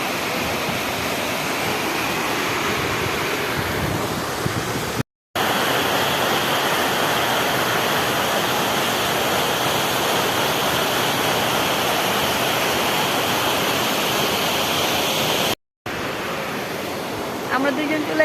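Heavy water cascading over a small falls in a park in Mymensingh during rain, a loud steady broadband roar with two brief dropouts.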